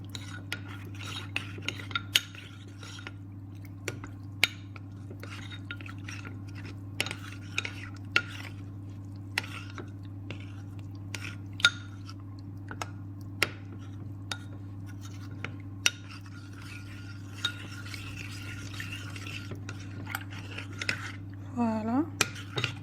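A spoon stirs ingredients for Moroccan harira soup in a bowl, giving light scattered clinks and scrapes over a steady low hum, close by and fairly soft.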